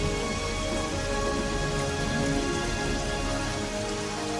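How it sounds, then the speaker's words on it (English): Steady, dense rain falls inside a temple, a continuous hiss of drops pattering on hard surfaces at an even level with no voices. "It's raining inside the temple."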